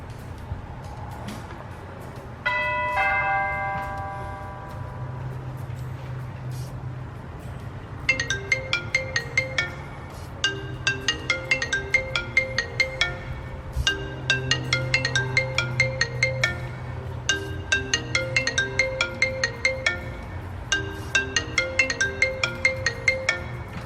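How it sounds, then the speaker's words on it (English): An Arlo wireless chime plays a repeating multi-note doorbell melody indoors, loud and close over a low steady hum, after a brief electronic tone sequence near the start. "I plugged in the chime to close the door so that we can hear it."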